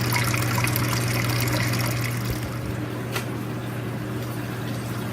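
Beer wort being aerated during a homebrew day gives a steady, continuous bubbling and trickling hiss, close and even throughout, with a constant low hum beneath and no talking.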